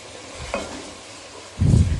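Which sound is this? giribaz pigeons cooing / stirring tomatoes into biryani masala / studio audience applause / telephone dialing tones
stirring tomatoes into biryani masala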